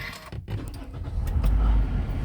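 Push-button start of a 2019 Toyota Altis: a faint key jangle and brake-pedal press, then the engine catches and settles into a steady low idle inside the car.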